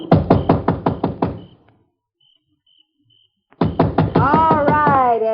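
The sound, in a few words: knocking on a house door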